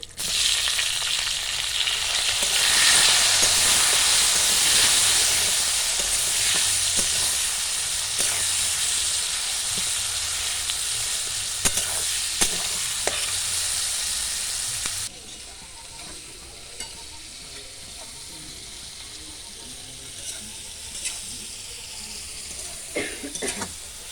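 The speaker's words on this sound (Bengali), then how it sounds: "পেঁয়াজ টমেটো ভালোভাবে কষিয়ে নেওয়া হয়ে গেছে" Chopped onion and tomato sauté in hot oil with bay leaves and whole garam masala, a loud steady sizzle and hiss with occasional stirring clicks that drops to a quieter simmer partway through.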